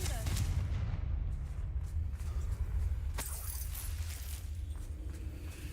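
A Confringo blasting spell explodes in Hogwarts Legacy, a sharp burst around the middle of the clip over a dense, rumbling game background of steady low noise, with speech-like sound in the mix.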